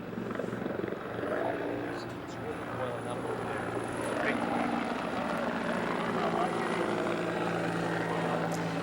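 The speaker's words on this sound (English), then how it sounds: "I can see 2 choppers coming in from behind here to make another attack on this." Firefighting helicopters fly in over a Los Angeles wildfire for a water drop, their rotors a steady, loud, broadband drone that holds for the whole stretch.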